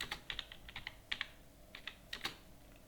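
Computer keyboard typing during data entry for a GST invoice in Tally Prime, quiet clustered keystrokes tapping in short irregular bursts with brief pauses, no voices.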